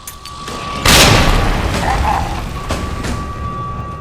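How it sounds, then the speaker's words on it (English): A grenade explodes in the Resident Evil 2 remake video game, a loud sudden boom followed by a long rumbling decay, with low game ambience before and after. "Let's throw the grenade"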